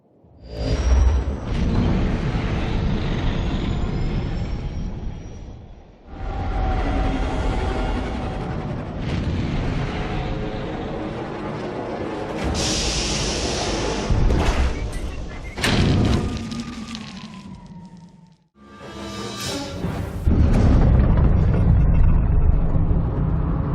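A starship launches in the Star Wars: The Old Republic game, rendered as long swelling engine roars and whooshes that rise and fade in several broad surges, with a deep rumble beneath and a voice speaking at times.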